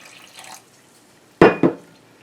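Water poured into no-knead bread dough made with wild yeast: two short, close splashing bursts in quick succession after a faint rustle, with no talk.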